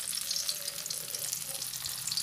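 Vegan crab cakes sizzle steadily as they fry in a pan of hot oil, a continuous bright crackle that holds level and close throughout, with no talking over it.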